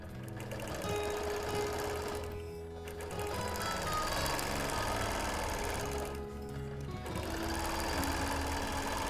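A sewing machine stitches along a quilt border, running steadily at close range for several seconds with two brief slowdowns before resuming its even, rapid chatter.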